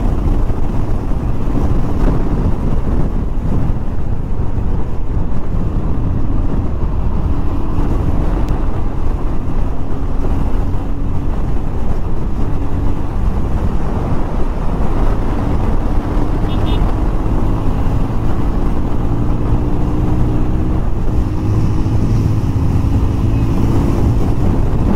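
Motorbike riding fast on an open road, overtaking traffic: constant loud wind-buffeted engine drone with rising engine tones, close to the microphone throughout.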